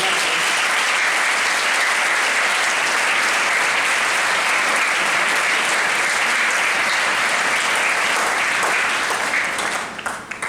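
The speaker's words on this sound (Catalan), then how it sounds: "Un fort aplaudiment." A concert audience claps loudly and steadily before a wind band's performance of festive pasodobles, a thick, continuous wall of applause that fades out only at the very end.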